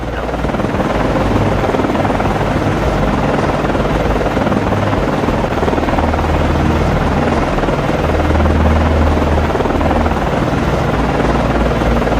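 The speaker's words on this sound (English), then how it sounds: "Con, Flyco, aircraft returning to base." A helicopter returning to base aboard an Arleigh Burke-class destroyer in the naval game Cold Waters, a loud continuous rotor and engine drone filling the whole span without pause.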